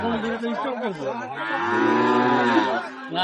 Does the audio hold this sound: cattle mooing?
yes